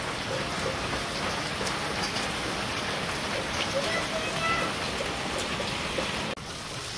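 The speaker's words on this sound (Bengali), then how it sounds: "আজকের বৃষ্টিটা দারুণ হয়েছে, মোটামুটি ভালোই লাগলো।" Heavy rain pouring down in a village market area, a dense, continuous hiss of drops drumming on surfaces, loud and steady throughout with a brief dip near the end.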